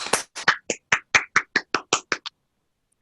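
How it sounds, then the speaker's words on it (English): About a dozen distinct, evenly spaced hand claps from one or a few people at an online testimony gathering, sharp and close, ending abruptly before a brief pause. "Guys, can we give Carolina another round of applause?"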